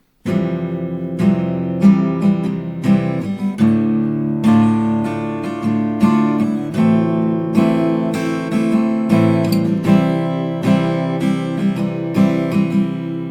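Acoustic guitar strums a chord progression in a steady rhythm of quick up-and-down strokes, close and moderately loud, with chords changing every few beats.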